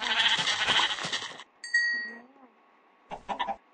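Bleats from sheep in the video game Minecraft: a short, clear bleat stands alone in the middle, with a busier burst of game sound before it and a brief cluster of bleat-like sounds at the end.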